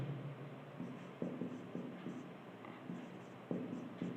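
Marker or chalk strokes on a board during a maths class on height and distance: a series of short, scratchy writing strokes in quick irregular bursts, close and fairly quiet, with no talking.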